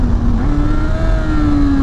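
A 2024 Honda CBR 600 RR revs hard and close with a high, rising engine whine, and a quickshifter snaps the revs briefly down between gears before they climb again.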